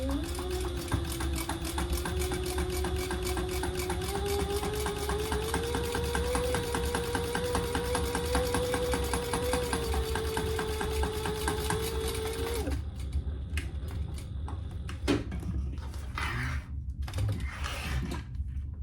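A sewing machine runs in a fast, even stitching rhythm while sewing a row on a leather wallet flap, then stops partway through, leaving a few soft handling clicks.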